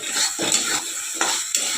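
Fried green banana and potato pieces tipped into a pan of cooked spice mix, giving a steady hiss of frying with pan and spoon clatter and a few louder scrape-stir strokes, close and with no talking.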